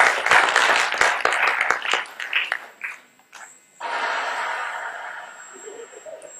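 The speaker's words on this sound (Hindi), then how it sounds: "जोरदार तालियों प्लीज" A crowd claps loudly for a few seconds before the applause fades out, leaving quieter room noise.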